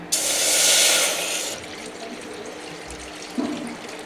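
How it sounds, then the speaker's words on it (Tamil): Water is poured from a tumbler into a pot, a loud splashing gush for about a second and a half that then stops, leaving a faint kitchen background and a small clunk. "ஒன்றரை டம்ளர் தண்ணி ஊற்றியாச்சு"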